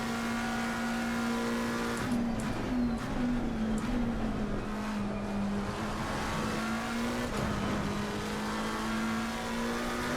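Lamborghini race car engine in Assetto Corsa Competizione, racing at Imola, drones steadily at high revs for the whole stretch, its pitch rising and dipping slightly with gear changes, loud and continuous with no talk.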